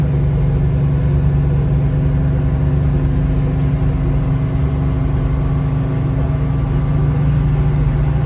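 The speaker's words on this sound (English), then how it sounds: "Nice driving car, goes down the road nice and straight." A 1972 Dodge Challenger cruising along the road, its engine giving a steady, loud low-pitched drone with constant road rumble and no noticeable revving changes.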